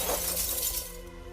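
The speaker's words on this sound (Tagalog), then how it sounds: "basagin nito ang salamin ng bintana ng kanyang sasakyan" Car window glass is smashed, giving a loud close crash with a bright spray of shattering and tinkling that quickly fades, no voices heard.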